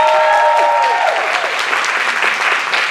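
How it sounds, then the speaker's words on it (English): A large audience at a panel discussion held at Malcolm X College bursts into a big, loud round of applause that fills the room and stays sustained throughout, with a few voices faintly audible underneath. "Can we give them a big round of applause?"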